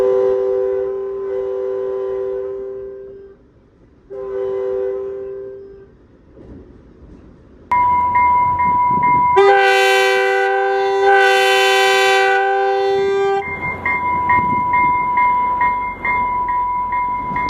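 A train on the Salt Lake subdivision rumbles past loud and close, sounding a series of long, blaring horn blasts with short gaps between them, over a steady roar of rolling railcars.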